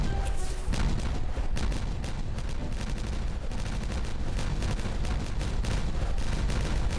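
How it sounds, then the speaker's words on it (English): Continuous dense booming and crackling from repeated explosions in the beaver colony builder game Timberborn, loud and sustained throughout with no talking. "Explosions, here we go."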